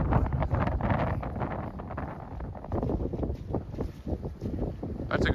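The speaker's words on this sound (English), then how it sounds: "A lot of wind." Strong, cold wind buffets the microphone on a golf course, a steady loud rumbling roar with gusty surges throughout and no clear talk.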